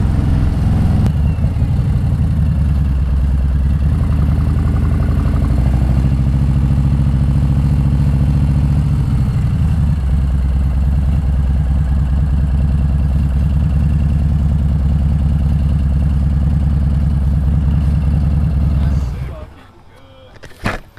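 A 2020 Harley-Davidson Road King with a Screaming Eagle 131ci Stage 4 engine idles loud and close in a lumpy, rumbling rhythm, with a brief blip of revs, for about nineteen seconds before cutting off abruptly.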